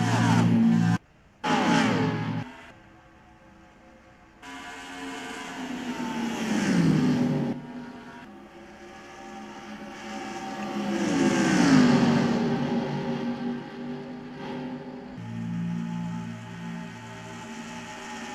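Engines of NASCAR stock cars roar and rise in pitch as they pass in the NR2003 racing game, with several cars swelling and fading in turn, loud and near, broken by brief gaps.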